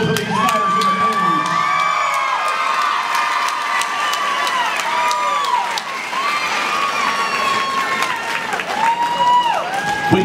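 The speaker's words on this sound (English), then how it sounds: "how about a big round of applause for both of these fighters in the cage?" Arena crowd at an amateur cage fight applauding the two fighters, loud and sustained clapping mixed with cheering, whistles and high whoops from many people throughout.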